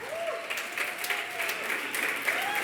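Church congregation applauding, a dense steady wash of clapping throughout, with a faint tonal whistle-like sound gliding over it.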